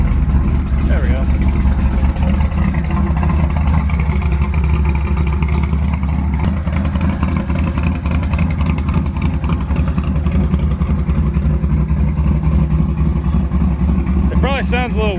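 A rough Ford F100 pickup engine idles steadily after a cold start, with a deep rumble and rattling, running close by for the whole stretch, with a few faint sounds near the end.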